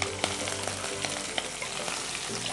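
Chopped onion and green chilli pieces crackle and sizzle in hot oil in a home-style Telugu kitchen, a steady dense frying hiss with small pops and spatters throughout, close and fairly loud, no voices.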